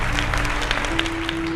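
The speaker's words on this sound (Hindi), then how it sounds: "तालियां हम जोरदार" Applause from an audience at a Hindi Bible quiz competition, a steady patter of clapping at even volume over a low background hum, brief and fairly close.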